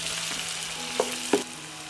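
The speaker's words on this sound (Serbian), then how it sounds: "propržit ću crni luk, dodajem beli luk i sve ću pržiti dok luk ne omekša." Chopped onion and garlic fry in hot oil in a deep pan, giving a soft, steady sizzle with two brief clinks of a spoon stirring near the end.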